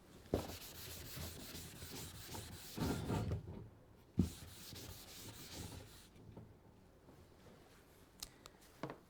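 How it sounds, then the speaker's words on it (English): Writing is rubbed off a board during a science lesson. Soft, scratchy rubbing strokes come in uneven bursts with short pauses between, and there is no talking. "Allow me to rub this."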